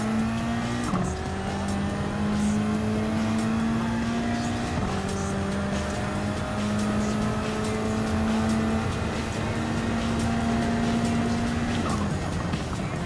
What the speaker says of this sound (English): Kick it up onto the fourth gear,